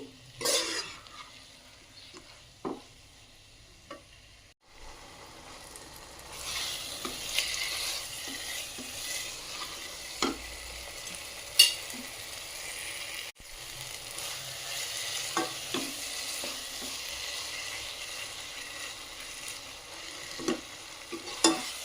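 Tomatoes with salt and turmeric frying in a pan, a continuous quiet sizzle punctuated by scattered taps and scrapes of a spatula stirring, with no voices.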